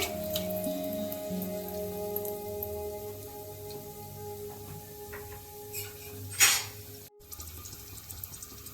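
Bay leaf, cinnamon and cloves sizzle and crackle in hot oil in a cooker, a steady fine spattering with a brief louder burst of popping near the end, no voices.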